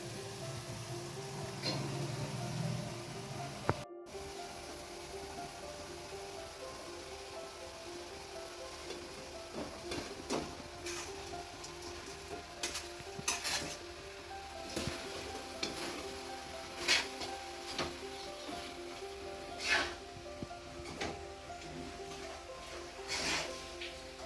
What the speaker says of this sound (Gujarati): ચલો પૌવા નાખી દેતે हैं हम लोग.